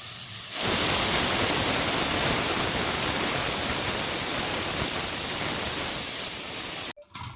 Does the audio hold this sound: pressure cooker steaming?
yes